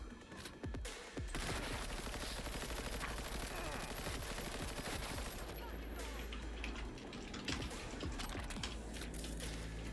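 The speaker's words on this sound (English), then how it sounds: "this assault rifle actually works well" Sustained automatic assault rifle fire from a Cyberpunk video game, loud, dense and continuous bursts after a brief opening pause, with faint talk mixed in.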